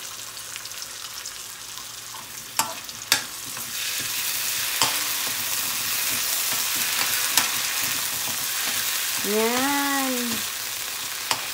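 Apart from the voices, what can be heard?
garlic and crab paste (talangka) frying in a pan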